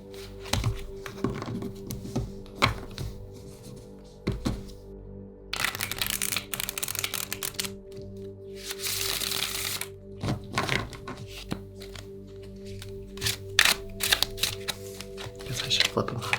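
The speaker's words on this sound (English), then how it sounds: "So I'm going to go ahead and I'm going to shuffle our cards." Tarot cards are shuffled by hand on a reading mat, with bursts of crisp riffling and soft slapping in irregular clusters, close up, while a person talks intermittently.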